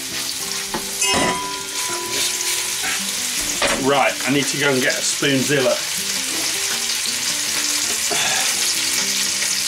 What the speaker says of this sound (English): you'll hear that sizzle as it hits